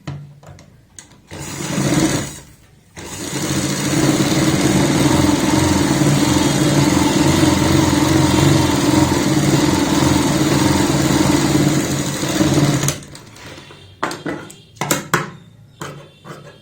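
A sewing machine runs steadily for about ten seconds, a close, even mechanical whir, with brief handling clicks before and after.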